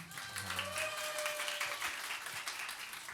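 An audience at a church young adults' gathering applauds and cheers. The clapping is dense, continuous and fairly soft from start to finish.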